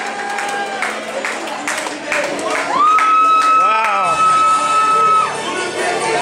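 Wrestling crowd at a THW tag-team match cheering, shouting and clapping in a loud, reverberant venue, with a sustained whistle-like tone and a voice exclaiming over the noise.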